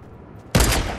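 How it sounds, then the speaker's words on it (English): Video game gunfire bursts in suddenly after near silence: a loud, close volley of rapid shots that keeps rattling to the end. "Oh, they're shooting at me."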